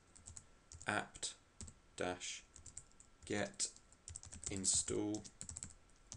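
Quick, uneven keystrokes on a computer keyboard as a terminal command is entered on an Ubuntu 12.10 machine, sounding close and clear, with someone talking over the typing.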